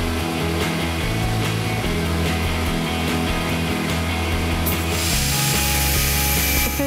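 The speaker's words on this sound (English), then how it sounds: "Once the steel is cut, I use a file to take off what's called a burr." A metal file rasps across freshly cut steel to remove the burr, giving a continuous dense scraping with a repetitive stroke texture that shifts near the end; loud and close, with no talking.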